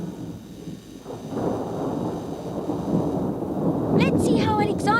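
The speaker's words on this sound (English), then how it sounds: "There's a storm coming." Thunder from an approaching storm rolls through a Maya the Bee cartoon, a steady low rumble that swells gradually, with a voice starting to speak over it near the end.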